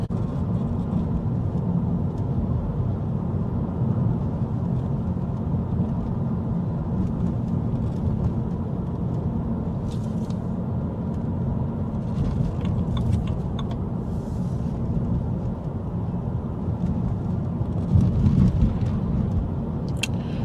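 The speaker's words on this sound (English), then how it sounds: "as you can see, the car drives perfectly well" A BMW 330i E90 with the N52B30 engine drives along in a steady, close, continuous engine drone with road rumble, holding an even level throughout with a few faint rattles above.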